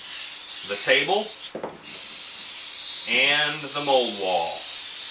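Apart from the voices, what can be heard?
cooking spray sprayed as mold release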